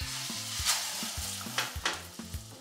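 A homemade chicken burger patty fries in a pan on a stovetop over lowered heat, giving a steady close sizzle with occasional sharper spits and pops.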